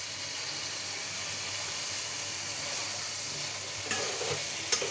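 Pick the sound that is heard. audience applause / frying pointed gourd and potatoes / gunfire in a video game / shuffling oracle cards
frying pointed gourd and potatoes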